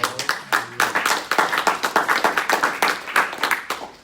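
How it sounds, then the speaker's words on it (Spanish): A church congregation claps in loose, rhythmic bursts, close and fairly loud, with individual hand claps distinct rather than blended into a wash, and no talking over it. "Un aplauso para Cristo por esto."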